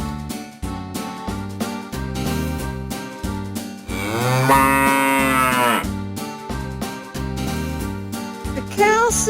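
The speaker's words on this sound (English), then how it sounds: "The cow says moo," Cow mooing in a long drawn-out call set within a steady rhythmic backing of instruments, loud and continuous throughout, part of a children's animal-sounds song.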